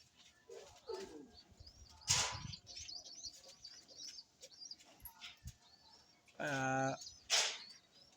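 Pigeons kept by a fancier cooing and calling in short bursts, with a brief flurry of wing flaps partway through and a sustained coo near the end, while faint speech-like sounds and background noise sit underneath.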